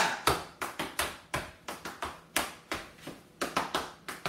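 Wooden clog shoes striking a hard floor in quick rhythmic bursts during an intermediate clog routine, mixed with a sharp hand clap, close and clear with no voices.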